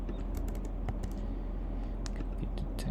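Rapid, close clicking of keys on a computer keyboard in irregular bursts, over a steady low background hum.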